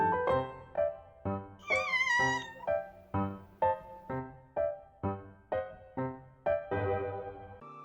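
A cat meows over and over in a steady, regular rhythm, close and fairly loud, with one higher, drawn-out cry partway through and no talking.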